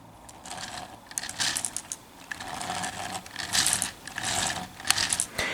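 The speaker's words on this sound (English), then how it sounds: "I'm hearing a lot of vibrations coming from these 2 wheels here. And this wheel is shaking violently." Wheels of a LEGO 12-wheel concept truck vibrating and shaking as they turn, a close plastic rattling and clicking that comes in uneven, building bursts of gear-like chatter.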